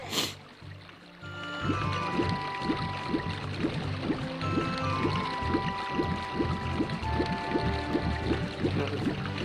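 Flowing, sloshing water sounds in The Legend of Zelda: Ocarina of Time continue steadily over a repeating rhythmic musical beat, with no voices.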